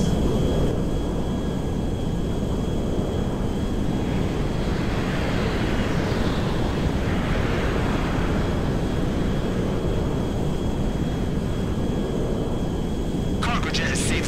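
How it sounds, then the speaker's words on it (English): A cargo jet flies over desert, its engine a continuous loud, broad roar with wind-like rushing that swells slightly mid-way and stays steady throughout. "Cargo jet is safely over the desert."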